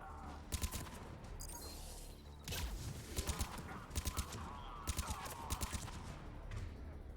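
Mass Effect 3 gunfire comes in short three-round bursts, repeated about half a dozen times at uneven intervals over a low background rumble, fairly distant and moderately loud.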